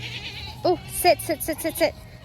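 Several goats from a family herd of 28 bleat in quick succession close by, a run of short wavering calls.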